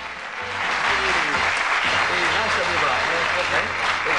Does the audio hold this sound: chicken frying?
no